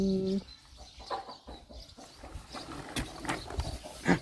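Chickens cluck in short, scattered calls at a Thai farmyard, fairly close and moderately loud, with a brief human voice at the start.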